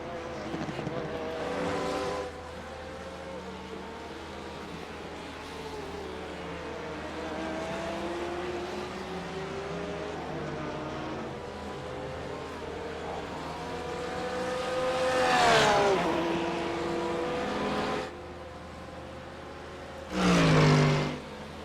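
A Porsche GT3 race car at Oschersleben runs along the track, its engine droning steadily with rising and falling harmonics under race commentary, and louder passes swell near the middle and the end.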